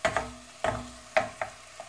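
Onion added after a little garlic and sautéed in a pan for pasta with white sauce, several distinct stirring knocks and scrapes with a light sizzle between them, close up, no talking.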